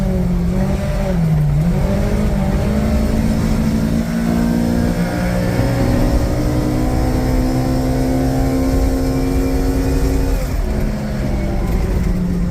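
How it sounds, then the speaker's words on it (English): Kawasaki Ridge side-by-side driving in high range four-wheel drive, its engine droning loud and close with rising and falling revs and transmission whine throughout. "Seems like the transmission's a little less loud,"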